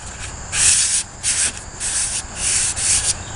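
Sandpaper works lightly over a wooden axe handle in a series of short scratchy strokes, about five even passes of hissy rubbing, close and clear with no talk.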